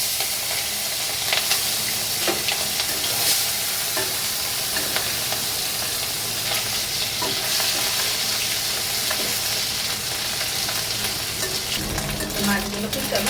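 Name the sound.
mourala fish frying in hot oil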